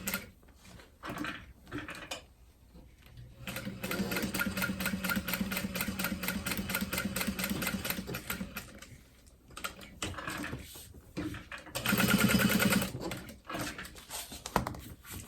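Sewing machine stitching a handbag seam, starting with a back stitch and running on down; a fast steady mechanical whir in long runs with short stops and clicks between, fairly close and with no talking.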